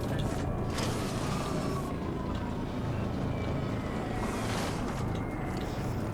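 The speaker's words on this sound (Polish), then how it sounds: "Windzia jedzie w górę, windzia jedzie w dół." An elevator moves in the sci-fi video game The Ascent, a steady grinding mechanical rumble with creaks and rattles that swells slightly midway and holds at an even level throughout.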